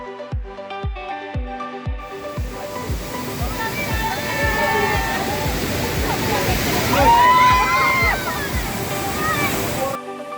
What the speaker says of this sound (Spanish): la experiencia de visitar estas hermosas cataratas pertenecientes al río Varecito es mágica e inigualable